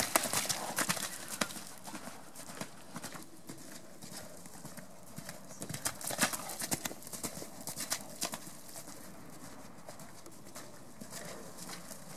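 A horse trots on a lunge line, its hooves beating a steady, moderately close rhythm for the whole stretch, with occasional faint voices in the background.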